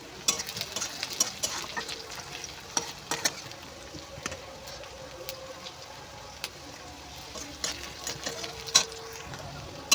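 Onions frying in a pan give a low steady sizzle, broken by frequent clicks and scrapes of stirring, close but fairly quiet.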